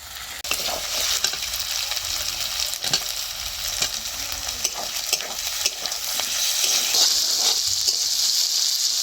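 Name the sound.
chopped tomato frying with ginger and garlic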